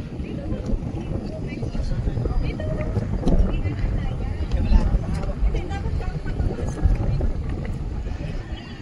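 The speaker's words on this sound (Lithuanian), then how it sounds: "Vėjas kažkaip tai šitoj pusėje didokas." Strong wind buffets the microphone at a Chocolate Hills viewpoint on Bohol in the Philippines, a loud, continuous low roar with gusty swells and a faint voice beneath.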